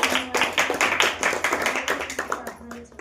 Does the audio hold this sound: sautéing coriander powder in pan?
no